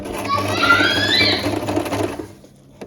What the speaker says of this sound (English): So just move it past your needle and then continue sewing.